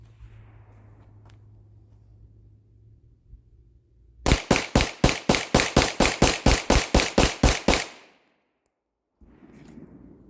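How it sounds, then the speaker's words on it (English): Glock 34 Combat Master pistol emptied in a rapid mag dump, about seventeen loud sharp gunshots in a fast, even string, with quiet outdoor ambience before and after. "Let's just see kind of how fast this thing runs if I just try to mag dump it"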